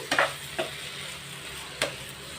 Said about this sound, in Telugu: ఇప్పుడు చిక్కుడుకాయలు వేసేస్తున్నాం ఇందులోకి